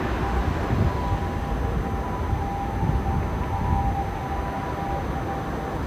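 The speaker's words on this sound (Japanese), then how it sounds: "サイレン。" A siren wails faintly in the distance beneath a steady wash of city noise in Nakanoshima, Osaka, its tone thin and drawn out.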